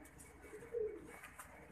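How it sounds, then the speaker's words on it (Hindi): A single soft, low coo from an Indian-breed pigeon, faint and brief, over quiet background hiss. "इंडियन ब्रीड है भाई, मोहर वाला कबूतर है"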